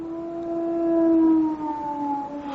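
The Hound of the Baskervilles cries out on the moor, a long, faint, distant howl that holds a steady tone, swells in the middle and then slides slightly lower.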